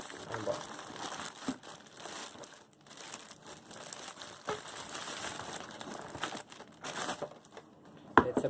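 Headphones being unboxed, with packaging crinkling, rustling and tearing in irregular bursts close by, with a sharp snap near the end; a voice talks at times.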